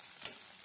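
Dried anchovies fry in a pan, cooked through on both sides, giving a brief, steady, fairly faint hissing sizzle with no talk.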